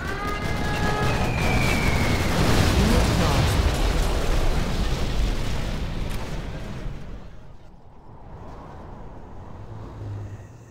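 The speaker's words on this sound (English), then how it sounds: "Particle cannon ready." A particle cannon fires in the Command & Conquer Generals real-time strategy game: a loud, sustained roaring blast with a sweeping tone, rumbling heavily for several seconds before fading into a quieter low drone.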